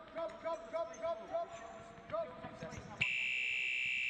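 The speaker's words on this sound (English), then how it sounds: "There's the buzzer" Half-time buzzer at a futsal match blares as a loud, sustained electronic tone cutting in abruptly after court sounds of squeaking shoes and a bouncing ball.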